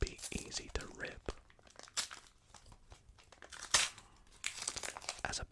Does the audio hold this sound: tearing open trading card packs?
yes